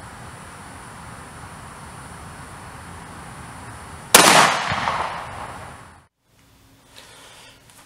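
A single loud, sharp gunshot from a 9mm Glock pistol firing Underwood 124-grain +P+ bonded ammunition cracks out over a steady hum and rings briefly before cutting to near silence, with no speech.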